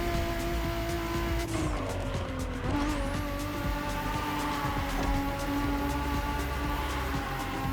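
Race car tires squealing while drifting at high speed in The Crew Motorfest racing game on O'ahu, Hawaii, with a steady loud engine drone, rising and falling tire screech and a skid sweep partway through, no talking.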